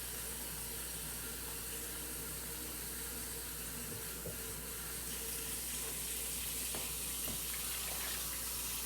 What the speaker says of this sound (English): obviously I have to put more water in here